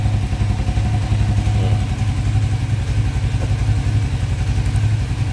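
Motorcycle engine with a faulty aftermarket racing throttle position sensor idling, a loud, close, continuous low putter with a rough, slightly uneven pulse and no talk.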